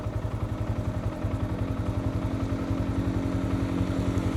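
Scooter on a street riding lesson, making a U-turn and braking: a close, steady buzzing engine with a rapid pulsing beat, briefly dipping then holding as the machine rides on, with no talk.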